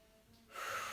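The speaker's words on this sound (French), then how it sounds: "On inspire par le nez, on expire par la bouche." A single deep breath during a Pilates exercise, drawn in through the nose and pushed out through the mouth, rising from a quiet start to a louder rushing exhale.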